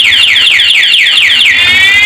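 A loud electronic anti-theft alarm on a Yamaha R15 V3 motorcycle whoops in rapid repeating sweeps, then shifts to a steady rising warble, close and continuous.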